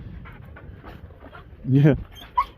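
A dog pants and gives a short whimpering yelp close by, with a person talking over it.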